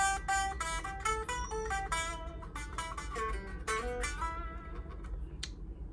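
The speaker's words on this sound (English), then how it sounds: "the part of the string behind the saddle's ringing out" Electric offset guitar with vibrato unit: notes ring out one after another, with bright overtones and a faint metallic ringing from the string section behind the bridge saddle lingering above the played strings.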